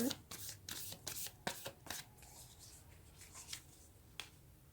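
A deck of spirit animal oracle cards is shuffled close by during a card reading, with quick flapping riffles in the first two seconds, then a few sparse card taps.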